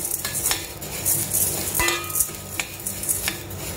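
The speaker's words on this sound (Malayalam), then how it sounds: "ഇനി നമുക്ക് ഈ മുതിരയെ നല്ല പോലെ വറുത്തെടുക്കാം" Horse gram roasts in a pan while a utensil stirs it, making repeated scraping and clinking strokes over a soft dry sizzle. It is close and uneven, with no talking.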